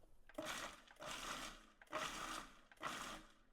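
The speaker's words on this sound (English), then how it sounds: "I don't want the nuts and seeds to get too mushy, so I'm going to pulse them." A food processor pulses nuts and seeds in four short bursts of whirring chop, each about half a second, separated by brief pauses; fairly faint.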